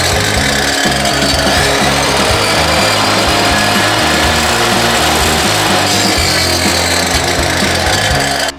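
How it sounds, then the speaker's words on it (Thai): Saw blade cutting steel for a sliding door, with the steel slid left and right under the blade: a loud, continuous harsh grinding screech lasting the whole stretch, close and unbroken, no talk. "กดใบเลื่อยค้างไว้นะครับแล้วเลื่อนนะครับเหล็กไปซ้ายทีขวาทีนะครับ"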